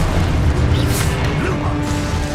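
Spell blasts from a wizard duel in the Hogwarts Legacy video game, a loud sustained booming explosion with a bright burst near the one-second mark, rumbling continuously throughout.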